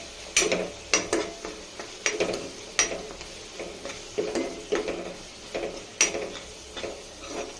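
Spoon stirring kitchen king masala, coriander powder and homemade spice mix into tomato chutney in a pan, a steady series of light scraping knocks about once a second over a soft sizzle.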